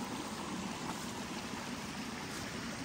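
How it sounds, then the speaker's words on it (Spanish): A small outdoor stream flowing near a rural community in Jalpa, Zacatecas, a steady, even rush of running water throughout at moderate level, with no voices. "Mire, ahí va el arroyo."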